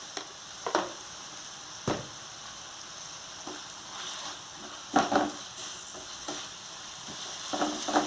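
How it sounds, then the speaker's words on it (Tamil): Tomato poha masala with turmeric, chili powder and salt sautéing in a pan, a low steady sizzle broken by a few sharp spoon taps and stirring scrapes, close and fairly quiet, with no talking. "இது நல்லா வதங்கட்டும்"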